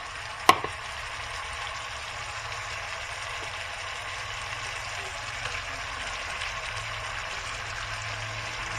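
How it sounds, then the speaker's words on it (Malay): Rohu fish frying in hot oil, sizzling and crackling continuously in a pan, with a brief clatter near the start, steady and close throughout. "Dah pecah minyak, dah mendidih. Boleh masukkan ikan kita."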